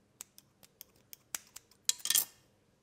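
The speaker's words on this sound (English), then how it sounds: "trim the wick. Make sure the blue tack is off. Trim at the bottom." Scissors snip at a soy wax candle wick, giving a series of faint, sharp clicks followed by a quick cluster of louder cuts, close up and otherwise quiet.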